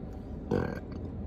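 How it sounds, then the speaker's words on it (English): A single loud burp erupts midway through, a short voiced belch standing out clearly over quiet room tone, made while eating Krispy Kreme doughnuts. "In every video I burp."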